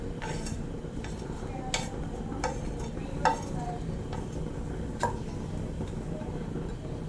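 Pieces of asafoetida are stirred and roasted in a pan, with a low continuous sizzle under soft, sporadic scrapes and taps of a utensil against the metal.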